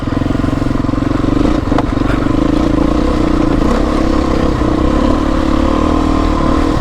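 A Beta 350 motorcycle engine drones loud and steady while being ridden at moderate throttle during break-in, with occasional clattering from the bike.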